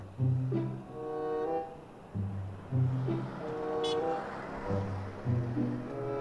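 A vehicle horn honks several times in long, sustained blasts with short gaps, fairly close and loud over outdoor background noise.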